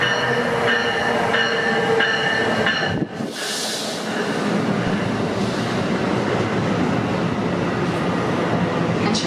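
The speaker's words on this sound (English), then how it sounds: "NJT 7836 to New York City, with cab car 7032 in the lead and being pushed by the ALP 46 class leader 4600" NJ Transit train 7836 runs with cab car 7032 leading, pushed by ALP-46 class leader locomotive 4600; a loud, steady rumble of rolling wagons fills the whole stretch, briefly dipping before surging back as the train keeps passing close by.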